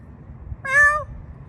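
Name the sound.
feral cats meowing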